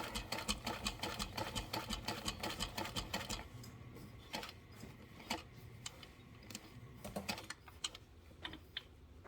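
Sewing machine stitching a seam at 5.5 stitch length, a fast rhythmic run of needle clatter that stops, then a few slower separate stitches and clicks, close and clear with no voices.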